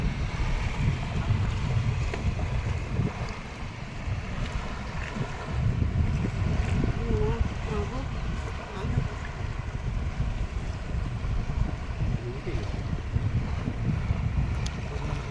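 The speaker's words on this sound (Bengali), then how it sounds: "হঠাৎ করে হাওয়ার জন্য কিন্তু ঢেউ হচ্ছে" A fishing boat out on rough water during a sudden squall near Marichjhapi forest, with continuous blustery wind buffeting the microphone over low rumbling waves and water sloshing against the hull.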